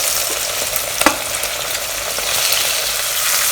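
Pork pieces double frying in hot oil, a steady dense sizzle with crackling bursts and a brief clink of a utensil, continuous and close.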